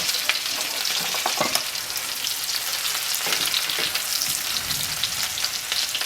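Perch fish fillets fry in a pan over medium heat. A dense, continuous crackling sizzle runs steadily throughout, close and even, with no voices.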